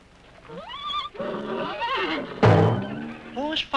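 Horses whinny and neigh several times in quick succession, loud and close, with a sharp thump partway through.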